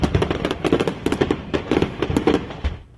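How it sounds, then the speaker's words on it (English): A stash of fireworks exploding inside a home in Ontario, Southern California: a dense, rapid barrage of loud crackling bangs and pops keeps going for about three seconds, then quickly dies away. "2 people are confirmed dead from a fireworks explosion inside a Southern California home."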